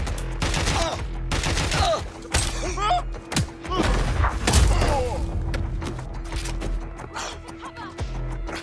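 Bursts of automatic gunfire rattle through a Watch Dogs: Legion boss fight, heavy thuds and rapid shots layered with shouted voices and chaotic combat effects throughout.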